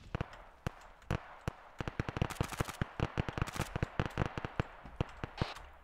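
Gunfire in the military shooter ArmA 3, crackling bursts and scattered single shots with short gaps between them, some loud and close and others more distant, layered over each other in an ongoing firefight.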